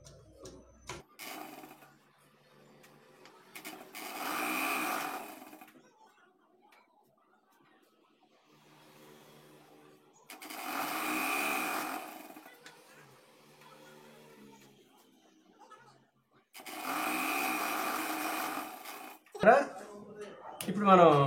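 A sewing machine stitches folded fabric for a garment in three separate bursts of rapid whirring, quiet and close, with soft speech in the pauses between them.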